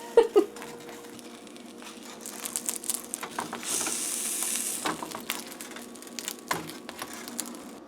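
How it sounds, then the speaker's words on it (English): Bean and cheese filling frying in a pan as it is pressed flat with a utensil, quiet sizzling with scattered clicks and scrapes, a brief louder hiss midway. "as this cooks, I'll keep pressing it, help the cheese melt and help it get a little flatter"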